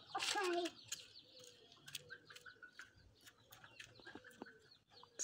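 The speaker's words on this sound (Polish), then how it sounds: "Skąd te gołębie się tu wzięły?" Pigeons coo softly among other bird calls, with a sharp squawk at the start and a quiet outdoor background.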